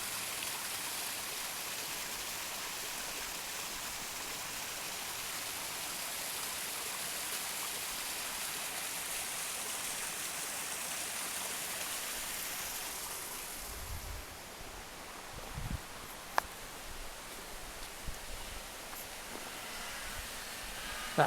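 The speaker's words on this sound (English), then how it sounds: "That's where the stream from the waterfall flows down" Water in a stream fed by a waterfall in Priory Groves, Brecon, rushes in a steady broadband hiss, fading and softening partway through to a quieter flow with a few small knocks and rustles, with no voices.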